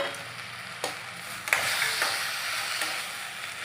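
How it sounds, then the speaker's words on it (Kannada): Dry red chillies, cinnamon and cloves frying in a pan for a village-style country chicken sambar, a steady close sizzle with occasional stirring clicks and scrapes, no talk. "ಸ್ವಲ್ಪ ಬಾಡಿಸ್ಕೊಳ್ಳೋಣ ನೀವು ಎಷ್ಟು ಚೆನ್ನಾಗಿ ಹುರಿತೀವಿ ಅಷ್ಟು ಚೆನ್ನಾಗಿ ಟೇಸ್ಟ್ ಬರುತ್ತೆ"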